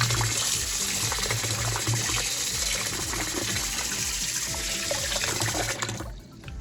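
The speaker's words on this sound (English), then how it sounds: "So we're gonna turn on the faucet again" Kitchen faucet water pours steadily over rice in a pot for a Jamaican rice and peas dish, a continuous loud splashing rush that cuts off abruptly near the end.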